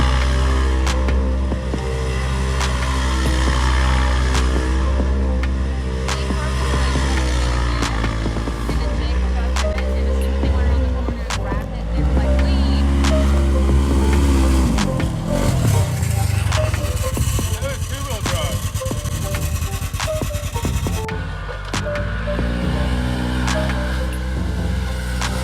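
Side-by-side engine from a 2020 Polaris RZR 1000 out riding with friends, a loud continuous drone that rises and falls with throttle, some scraping and rumbling mixed in, and voices faintly under it.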